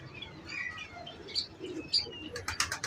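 Pigeons, including birds descended from a breeder's Doras-eyed strain, flutter and beat their wings in short bursts with scattered chirps and coos, ending in a quick flurry of flapping.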